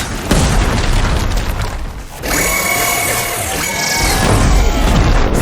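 A loud, close explosion in Horizon Forbidden West booms and crackles, followed by rumbling debris and sustained roaring fire noise with metallic ringing tones.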